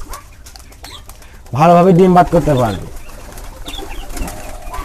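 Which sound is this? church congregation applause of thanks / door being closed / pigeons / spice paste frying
pigeons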